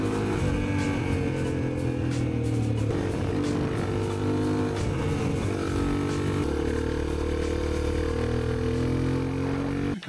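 A 400 XR motorcycle ridden along a scenic road in Turkey, its engine droning loud and steady throughout with shifting pitch as it speeds up and changes gear, heard close with wind rush and no talk.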